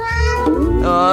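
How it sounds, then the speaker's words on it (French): A cat gives a single loud, drawn-out meow with a rising and falling, whiny tone, heard close up. "Ah ouais, c'est un chat."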